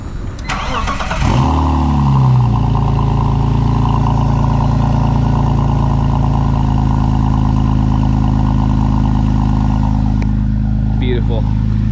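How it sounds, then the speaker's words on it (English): A BMW E46 is cold-started: a short cranking burst catches into a loud, steady engine and exhaust idle that holds close and unbroken to the end. "We're gonna get that sweet exhaust tone so you guys can hear what it sounds like with a nice healthy engine."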